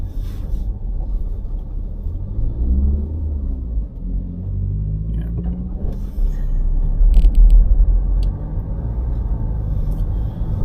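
Car driving through Darmstadt, Germany toward the city center, a steady low engine and road rumble from inside the cabin, swelling slightly louder toward the end.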